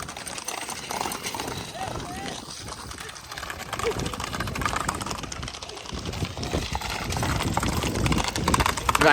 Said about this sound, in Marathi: परत घोडागाडी आल्यात